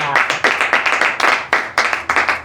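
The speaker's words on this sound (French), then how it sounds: "Alors, cela mérite vraiment des applaudissements." Brisk hand clapping from a small group, close and fairly loud, with an uneven rhythm of overlapping claps that lasts a couple of seconds with no talk.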